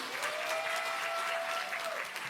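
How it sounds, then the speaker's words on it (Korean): A crowd claps steadily and fairly loudly for a couple of seconds at a Democratic Party anniversary ceremony, with a faint sustained tone running underneath. "큰 박수 부탁드립니다"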